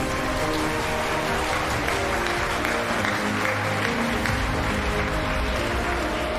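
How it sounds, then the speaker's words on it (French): A crowd at the French robotics cup final applauds loudly and steadily, a dense, even patter of many hands that continues for several seconds. "On les applaudit bien fort, en tout cas."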